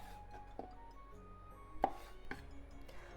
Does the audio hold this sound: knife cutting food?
yes